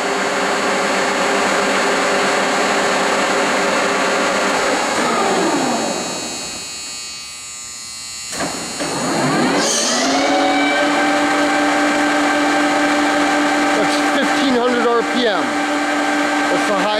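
Spindle of a Lucas 441B-72 table-type horizontal boring mill running at 1,027 RPM: a loud steady mechanical whine with strong harmonics that sweeps down and back up as it brakes and restarts, continuous throughout.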